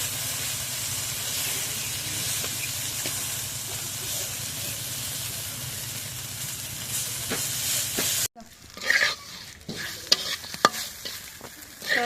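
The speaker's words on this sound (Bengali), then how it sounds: "এখন পটল বেশি নাড়া দিয়ে দিই।" Pointed gourd fries in a pan with a loud, steady sizzle and hiss while it is stirred, then the sizzle cuts away to quieter scraping and clattering spoon strokes against the pan.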